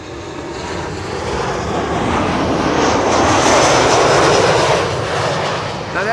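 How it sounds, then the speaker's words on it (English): A Boeing 737-700 in SkyTeam livery arriving at Schiphol from Bucharest, a loud, close jet engine roar that swells toward the middle as it passes and eases slightly at the end, with no voices. "Flight 361 arriving from Bucharest. It's a 737-700 in the SkyTeam livery."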